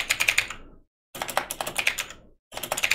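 Quick bursts of typing on a computer keyboard as a command is entered, rapid close clicks in three runs separated by short pauses.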